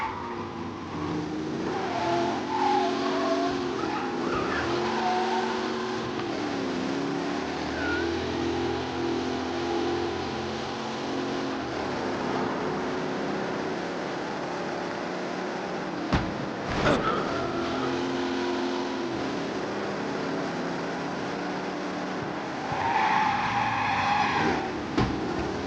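A car in Mafia: Definitive Edition speeds recklessly through Central Island, its engine droning and revving while tires skid and squeal repeatedly, with sharp thumps of impacts mixed in, loud and close throughout.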